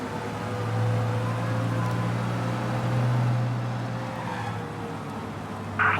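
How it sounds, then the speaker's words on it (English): A car in the video game Mafia Definitive Edition speeds along, its engine a steady moderate hum with brief swells of tone, fairly quiet and alone before a short burst at the very end. "We lose them by driving real fast and getting clear of them."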